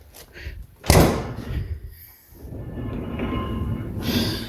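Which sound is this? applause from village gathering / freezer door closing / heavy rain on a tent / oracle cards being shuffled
freezer door closing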